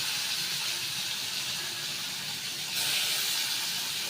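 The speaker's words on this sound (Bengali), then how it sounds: "এবার নুন হলুদ দিয়ে মেখে রাখা উচ্ছেটা দিয়ে দিচ্ছি" Salted, turmeric-coated bitter gourd fries in oil in a hot wok with a soft, steady hiss that swells slightly brighter and louder partway through.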